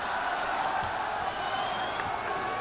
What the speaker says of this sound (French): Applaudissements forcenés dans les gradins supérieurs qui saluent le dégagement de Bou